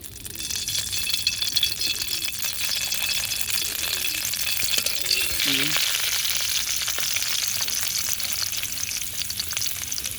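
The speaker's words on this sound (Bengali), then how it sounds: "তেজপাতা, গোটা জিরা, আমি এখন এগুলাকে ভেজে নেব" Bay leaf and whole cumin frying in hot oil in a kadai, a constant close sizzle with a few light clinks and stirring rattles, no talking.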